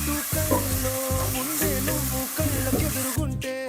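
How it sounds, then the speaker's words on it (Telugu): Ginger garlic paste frying with onions in a pan gives a steady, close sizzle that runs through the whole stretch, with a tonal background sound layered underneath. "ఇది అల్లం వెల్లిపాయ పేస్ట్ పచ్చి వాసన పోయేంత వరకు ఫ్రై చేసుకుందాం."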